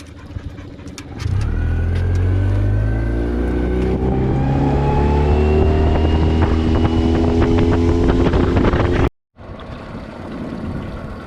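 A Riverhawk B60 boat's engine revs up hard and climbs in pitch as it gets on plane on a lake, loud and close with water and wind noise, then briefly cuts out.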